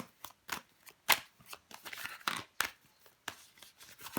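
Tarot cards being handled and laid over on a table, a quick run of soft papery slaps and swishes, close and fairly quiet, with no talking.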